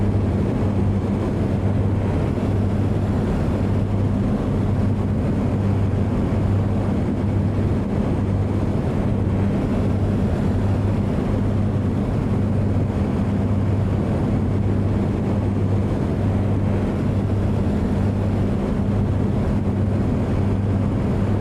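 Steady, unbroken wind roar and low rumble buffet a Comanche light aircraft in flight in Microsoft Flight Simulator 2020, holding a constant loud level with no voices.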